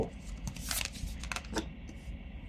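Tarot cards being handled and drawn from a deck, giving a close run of soft papery rustles and quick slaps that come in short bursts over a faint steady background.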